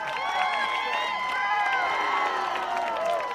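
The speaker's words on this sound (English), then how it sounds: "And this crowd goes crazy." Baseball crowd at a high school game between State Farm Siegel and Clarksville, roaring and cheering steadily after a two-run home run, a dense sustained wash of voices with shouts rising above it.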